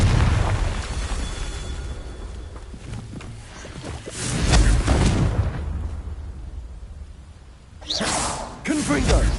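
Confringo fire spell in Hogwarts Legacy, whooshing blasts and booming explosions over rumbling battle noise, one burst swelling midway and further sharp bursts near the end, with a voice heard amid it.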